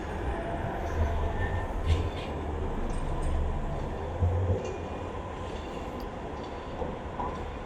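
A Manchester Metrolink tram, unit 3133 running to Rochdale via Oldham, rolls into Victoria stop with a low rumble and soft wheel clatter, fairly close, with light station ambience.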